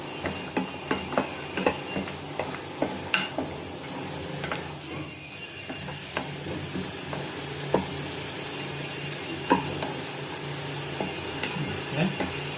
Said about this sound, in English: let's add up the mutton which we fried in the ghee and gently mix it